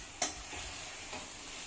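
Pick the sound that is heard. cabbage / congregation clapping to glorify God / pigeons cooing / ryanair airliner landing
cabbage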